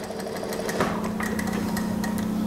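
Sewing machine overlock-stitching the hem of women's trousers, a steady close mechanical whir with a fast even stitching rhythm running throughout, with no talking.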